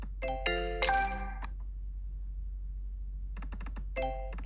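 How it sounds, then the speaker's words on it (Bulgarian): Bell symbols in the Burning Hot slot game ring out as bright electronic chimes, a loud cascade near the start, then silence, then softer tinkling and another ding at the end. "Гледай какви хубави камбани дава"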